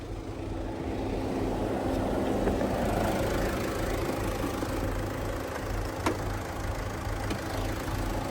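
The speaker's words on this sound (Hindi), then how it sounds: "आइए बोनेट खोलते हैं और देखते हैं डीजल इंजन।" A Tata Harrier's 2.0-litre inline four-cylinder turbocharged BS6 Kryotec Fiat Multijet 2 diesel idles with the bonnet open, a steady, even hum heard close and alone throughout.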